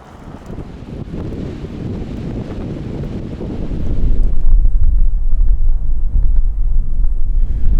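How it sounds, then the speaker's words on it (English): Strong wind buffets the microphone in a windy area with windmills on a bicycle tour in Oregon, a loud continuous roaring rumble that grows heavier and deeper partway through, with no voices. "As you can tell by the windmills, there's lots of wind in this area"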